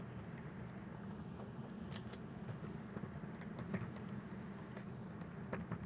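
Computer keyboard typing in quick irregular taps, faint and close, with steady low background hum and no voices.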